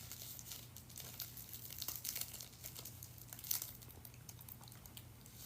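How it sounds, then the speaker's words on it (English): Zig-Zag rolling papers crinkle and rustle up close while a cigarette is rolled by hand, soft irregular crackles and crumpling over a quiet background. "As you hear the rustling of my zigzag papers"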